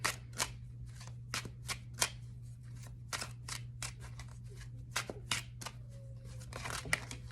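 Tarot cards are shuffled by hand in a quiet room, giving a rapid series of crisp riffles and soft flicks, close and fairly faint, over a low steady hum.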